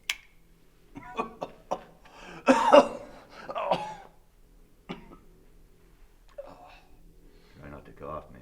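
A man coughs several times in short, harsh bursts after taking a drag on a cigarette, with a few quiet voices talking around the coughing.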